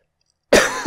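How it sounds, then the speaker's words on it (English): A single harsh cough from a man who is sick, close and abrupt after half a second of silence. "Sorry if I cough during any of this."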